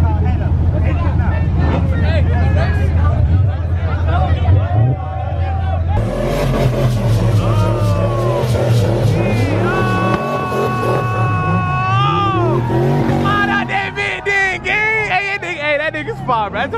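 A car spinning its tires at a crowded night car meet in Atlanta, engine roaring and tires squealing in long rising whines over a loud crowd chattering and shouting nearby.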